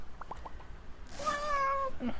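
A cat meows indoors, first a few short soft chirps and then a longer, louder, drawn-out meow, with a brief small sound at the end. Close by, with no talking.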